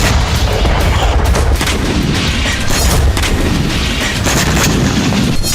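Explosions from Russian strikes on Ukrainian positions: a continuous loud, rumbling barrage of heavy booms and blasts that overlap with no pauses, with no voices.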